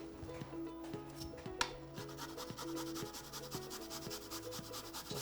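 A single garlic clove rubbed across a rasp grater, a quiet steady scraping rhythm of repeated strokes, close and alone with no speech.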